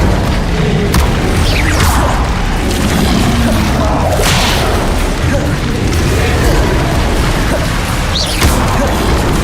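The Incendio fire spell is cast during combat in Hogwarts Legacy, with loud booms, whooshing swishes and crashing impacts running throughout, and speech breaking in over the effects.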